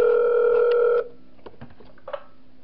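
Telephone tone from the video game Five Nights At Wario's 3, a loud steady ring-like tone that cuts off after about a second, followed by faint clicks and rustles.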